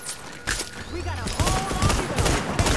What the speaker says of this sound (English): Oh my god, this shotgun.